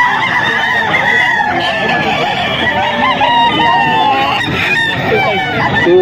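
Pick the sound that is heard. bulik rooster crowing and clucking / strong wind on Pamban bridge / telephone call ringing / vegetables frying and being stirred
bulik rooster crowing and clucking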